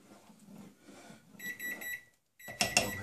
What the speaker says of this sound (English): there goes the timer for an hour